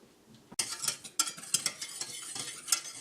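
Sugar and cornstarch stirred together in a saucepan, a spoon scraping and clinking against the pan in quick bursts after a quiet start, close and fairly loud with no talking.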